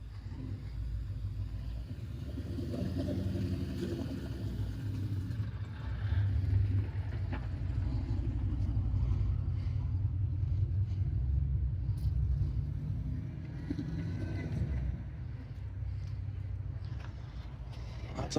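A car or truck at a car cruise with S10s, Cadillacs, Fords and a Dodge truck rumbles with a steady low engine drone, moderately loud and continuous, with faint voices and outdoor noise mixed in.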